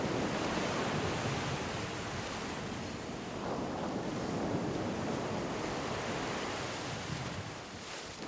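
Ocean waves break on Shell Beach in Guyana, a shore of ground shells and sand, in a loud continuous roar of surf mixed with wind rumble.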